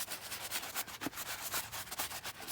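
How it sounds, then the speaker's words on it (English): A brush scrubs a suede Jordan sneaker in quick, rhythmic back-and-forth strokes, close but quiet. "So I'm just gonna scrub this once again, this other shoe."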